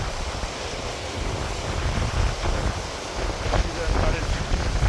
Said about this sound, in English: Now we reached the bank of the Tengboche river.